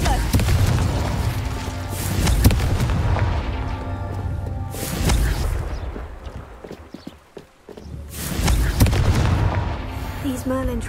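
Spell blasts from Incendio fire and Confringo fireball casting in the Hogwarts Legacy video game, heavy booming bursts in waves with crackling impacts and a brief lull in between.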